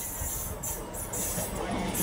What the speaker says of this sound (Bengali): সামনের দিকে ট্রেন আসছে। দেখুন আরেকটি ট্রেন আসছে